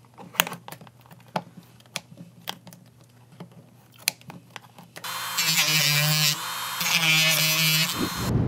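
Plastic fin being cut off inside a Super73 Z1 e-bike frame, first several sharp clicks and taps, then a loud buzzing power-tool whine that runs in two long stretches with a brief pause between.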